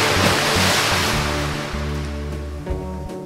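Water surges and splashes in the Pecos River as someone is pulled overboard from a boat, a continuous loud rushing wash with a brief extra splash near the end.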